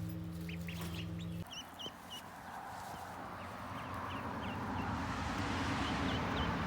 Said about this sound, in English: 2 mallards and 2 khakis.